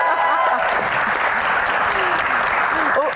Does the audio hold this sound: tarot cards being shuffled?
no